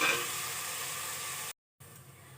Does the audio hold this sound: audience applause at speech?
no